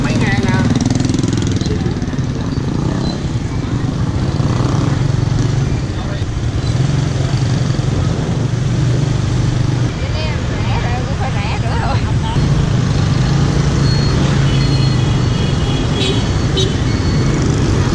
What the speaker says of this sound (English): Riding on the back of those scooters is not getting old at all.